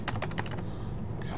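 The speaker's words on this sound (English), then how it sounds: "here's where you begin to start typing up your thoughts" Quick bursts of keystrokes on a computer keyboard as someone types a journal entry, a dense run of clicks at first that thins out, then a few more taps near the end.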